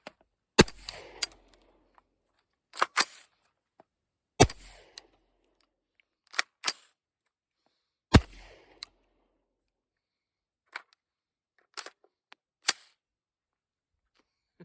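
Suppressed .300 BLK short-barreled rifle, a Witt Machine & Tool Dirty 30, fired into dirt: several sharp, close cracks alone in quiet, spaced by pauses, some as quick doubles, each with a brief gritty tail.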